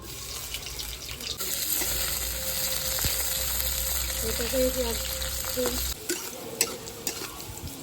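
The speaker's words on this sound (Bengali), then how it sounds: "এবার উচ্ছেটা ভেজে নিচ্ছি" Bitter gourd pieces frying in freshly added oil in a home kitchen make a continuous close hiss and crackle. A brief spoken word comes over it, and the sizzle cuts off sharply near the end.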